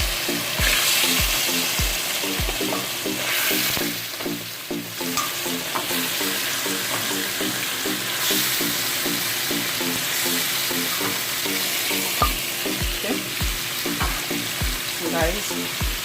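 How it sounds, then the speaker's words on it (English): Loud, steady sizzling of curry powder frying in a pot for Jamaican curry goat, with regular scraping knocks of a spoon stirring against the pot throughout, close and continuous. "I'm going to go ahead and add my curry in"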